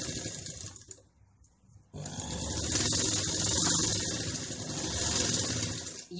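A sewing machine stitches a lined blouse, its motor whirring steadily up close, stopping briefly for about a second and then running again without a break.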